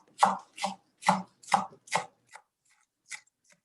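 A knife chops green onion on a board in about eight crisp, close taps, five quick evenly spaced strokes followed by a few fainter, sparser ones, with no talking.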